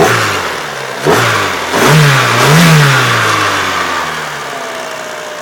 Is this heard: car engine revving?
yes